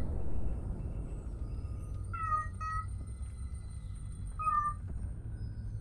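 Cats meowing, two clear short meows close together followed by another a couple of seconds later, over a steady low hum with no talk.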